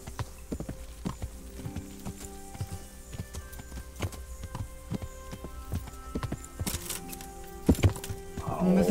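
Horse hooves clip-clop steadily as a rider travels along in Kingdom Come Deliverance, the rhythmic thuds close and clear, with a few sharper knocks near the end.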